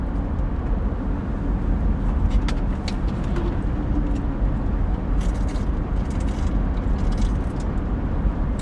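Steady road noise from inside a car driving on the road, a constant loud rumble and hiss with faint ticks and rattles over it, no speech.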